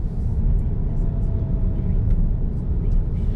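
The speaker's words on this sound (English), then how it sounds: "The car you can hear is Jill's car, not this one." A car passing nearby outside, a steady low rumble of road noise and engine filling the moment without change in level.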